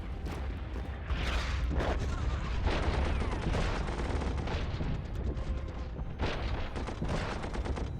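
Artillery bombards Milan in the strategy game Commander The Great War, a dense, continuous roll of booming and crackling gunfire that stays loud throughout.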